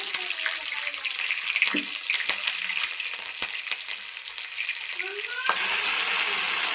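Crushed garlic frying in hot oil sizzles steadily with a few stirring clicks, then the sizzle jumps louder and brighter as chili goes into the pan near the end.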